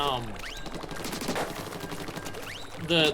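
A Splattershot Jr. sprays ink in rapid repeated bursts during a Splatoon 3 Turf War match, a busy run of quick shots with game effects and a voice talking over it.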